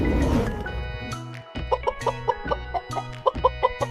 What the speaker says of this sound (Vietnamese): Con gà.